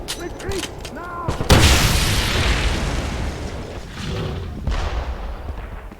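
Grenade blast in the shooter game Wolfenstein (2009): a sudden heavy boom bursts in after brief voices, then a long loud rumbling roar of debris and battle noise fills the remaining seconds.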